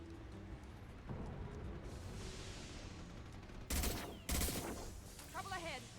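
High-impact gunshots in the video game Mass Effect 2 ring out as two heavy, close blasts over a dense rumbling battle backdrop, with scattered crackling firefight noise around them.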